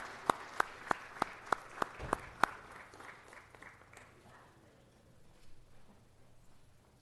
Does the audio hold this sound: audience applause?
yes